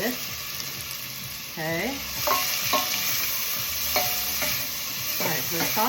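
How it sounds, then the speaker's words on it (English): Diced onion for rajma masala fries in a hot pan, a constant close sizzle with repeated scraping strokes of stirring, and a voice speaks briefly over it. "Onion in there. Something to stir it with."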